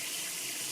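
Cool water pours in a steady, close splashing stream to soak a brick of coconut husk, with a brief, even hiss and no gaps.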